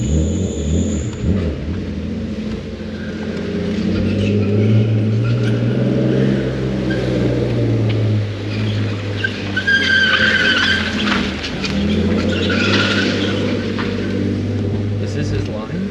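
A BMW E46 fitted with BC Racing suspension drives a course, its engine drone rising and falling with revs and some tire noise, while people talk inside the car over it.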